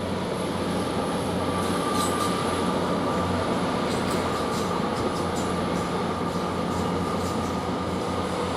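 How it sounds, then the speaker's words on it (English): A Class 800 train, unit 800-317 on an Oxford to London Paddington service, departs Didcot Parkway station, with steady loud rail rumble and faint high wheel or electrical whine throughout, no voices. "Now this train is now departing,"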